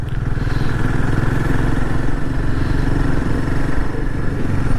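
A motorcycle engine runs at a steady, loud drone during a mountain ride toward a checkpoint in North Sikkim, heard close and continuous throughout.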